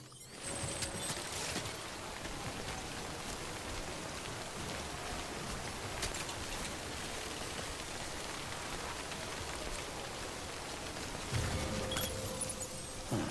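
Timefall rain from the video game Death Stranding falls as a constant dense patter, with faint clinks and mechanical rattles scattered through it and no voices.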